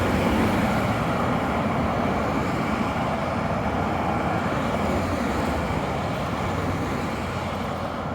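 Dense highway traffic beside a road in Halifax, a constant loud roar of passing vehicles with no pauses and no voices over it.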